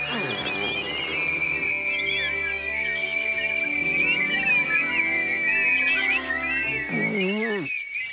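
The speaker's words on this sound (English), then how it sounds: "One, two, three, whistle." Cartoon characters whistling together in a children's animated show, a sustained bright whistled tone with warbling pitch bends held for several seconds over a musical backing, ending in a falling wobble.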